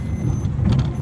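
A car or small bus draws close on a rural road near the Modak Sagar dam area in Konkan, a steady low engine rumble swelling slightly as it nears, with no talk over it.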